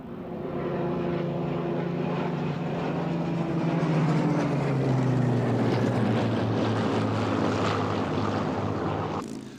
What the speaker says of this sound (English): The Hawker Hurricane was the first of the RAF's new fighters in the 30s.